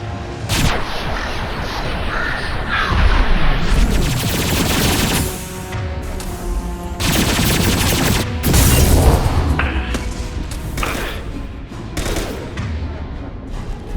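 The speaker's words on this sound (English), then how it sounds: "Firing a high-impact shot." High-impact gunshots in the Mass Effect 2 video game: loud, rapid heavy blasts and booming impacts packed densely across the whole stretch, with brief lulls between bursts.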